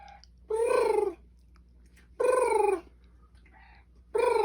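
A cat meows three times, each a drawn-out, slightly hoarse call separated by short pauses in a quiet room.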